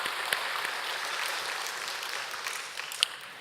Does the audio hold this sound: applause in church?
yes